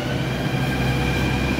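A metro train sits at a station in Jaipur, heard as a steady, dense mechanical rumble and hiss that stays at an even level throughout, with no voices.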